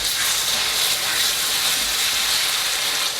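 Vegetarian moussaka filling with tomato passata hisses and sizzles vigorously in a hot pan, a dense, continuous, close steam-like roar with no pauses.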